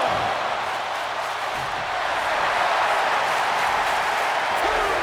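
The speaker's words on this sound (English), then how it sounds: "And the crowd is in" A dense arena crowd roars and cheers continuously in a WWE 2K wrestling video game match, loud and steady throughout, with a commentator's voice talking over it.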